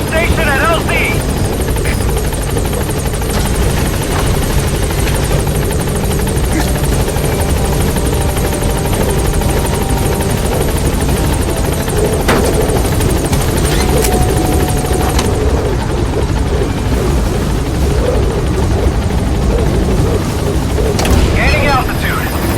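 B-Quad transport helicopter in Metal Gear Solid V flying to a landing zone: a loud, continuous rotor thrum and turbine whine close by, steady throughout, with radio voices over it.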